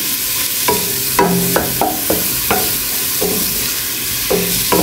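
Food frying in a pan until caramelized for mujaddara, a steady loud sizzle with a series of sharp stirring scrapes and knocks of the utensil against the pan at irregular intervals, with no talk.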